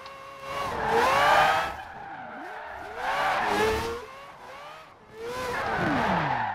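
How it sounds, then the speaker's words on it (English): Tires squeal in long sweeping skids as a 2002 Mazda RX7 Spirit R Type A drifts in Forza Horizon 4, the engine revving between three loud, wavering slides. "Sometimes you still need that little bit of handbrake to get that really good angle that you want to get when you're drifting"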